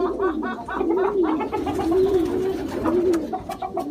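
Domestic pigeon cooing close by in a rural setting: repeated soft, throaty rolling coos in a steady rhythm, fairly loud and alone.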